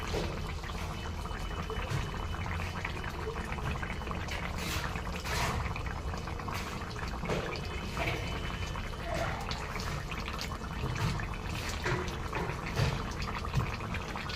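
Water poured into fried spices in a pan for fish curry, a continuous splashing trickle and sizzle with scattered drips and small clatters, close and steady throughout with no talking.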